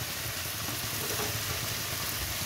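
Jackfruit curry with shrimp frying in a pan, a steady close sizzle and hiss filling the whole stretch with faint stirring scrapes underneath, no talking.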